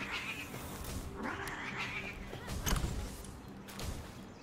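Cat-like creatures in the Palworld game give drawn-out, agitated meows and yowls, several overlapping cries at moderate volume with a thump partway through and some background game sounds.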